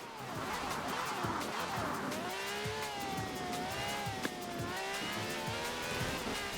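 Car in the video game Forza Horizon 4 drifting, a bright wavering engine roar with rising and falling pitch and sustained tire squeal, loud and continuous throughout.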